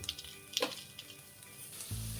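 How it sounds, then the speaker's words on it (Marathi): A faint, soft sizzle of potato slices sautéing in a pan, with a couple of quiet utensil taps and a low hum at the end. "उकडलेल्या बटाट्याचे काप घालून घेऊया एक मिनटं याला परतवून घ्यायचं"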